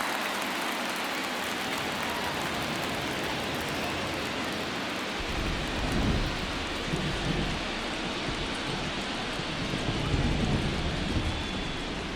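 Heavy rain pours steadily onto a baseball field in MLB The Show 23, a dense continuous hiss that deepens into a fuller, heavier downpour midway through, with no talk over it.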